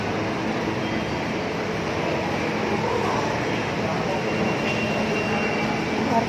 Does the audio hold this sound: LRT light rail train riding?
yes